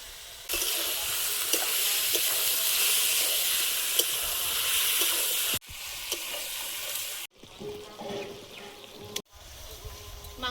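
Rooster chicken meat sizzling loudly in hot oil in a pan with chili powder, a steady bright frying hiss that cuts out and resumes in quieter, uneven bursts.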